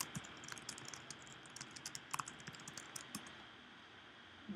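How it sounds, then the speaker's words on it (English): Chat messages are typed on a computer keyboard, with quick irregular key clicks close by, a few louder taps mixed in, and no voices. "let's just say I want to type some messages"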